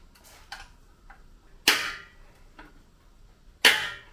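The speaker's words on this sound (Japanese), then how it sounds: "カチッという音がしてますが、ネジロックがついてて、スムーズにナットが回らないだけなので、ごく普通のボルトとナットです。" A bolt and nut coated with thread locker on a 2006 Harley-Davidson Sportster 883 motorcycle give sharp, loud clicks as the nut is turned, two strong snaps about two seconds apart with fainter clicks between, close by and with no talk.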